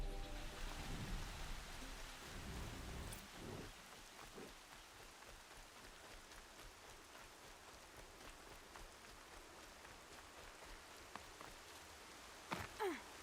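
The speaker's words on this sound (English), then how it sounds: "It's raining on the water." Steady rain falling on water in the video game Horizon Zero Dawn, a dense, even hiss that holds for over ten seconds with a few sharper drops and crackles scattered through it.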